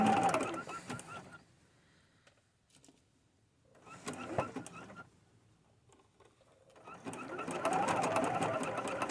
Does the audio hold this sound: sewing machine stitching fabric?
yes